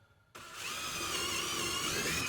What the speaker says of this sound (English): I'm not quite sure where to drill these because I don't know where I'm going to need holes